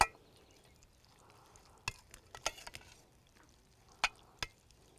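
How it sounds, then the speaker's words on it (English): Sauce of hot sauce, lemon juice, salt and pepper stirred together in a bowl, with a few sharp utensil clinks and taps spaced out over quiet, faint mixing noise. "And then now I'm just going to mix everything together."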